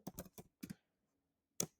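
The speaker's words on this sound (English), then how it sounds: "I'm typing it" Fingers tap a computer keyboard in a short burst of four or five quiet, close keystrokes, then one more lone tap after a brief pause.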